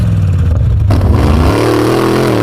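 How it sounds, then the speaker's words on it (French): A loud, gritty off-road 4x4 crawler engine revs hard and climbs in pitch, roaring continuously up close with a rough, clattering edge. "Cette grosse accélération bien crade, je l'ai trouvé sur une vidéo YouTube qui s'appelle 4x4 Crawler."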